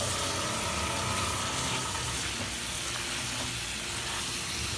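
Prawns sizzle steadily in a thick masala as they are stirred through, a dense, continuous frying hiss with soft scraping underneath, close and fairly loud, with no talking.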